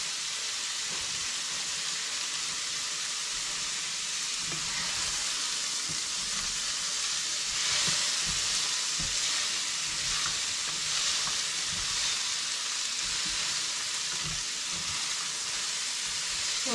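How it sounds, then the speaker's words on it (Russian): Carrots fry in sunflower oil in a pan, giving a steady, close sizzle with soft crackles and occasional stirring sounds throughout, no talking. "морковка здесь будет сушиться, обжариваться"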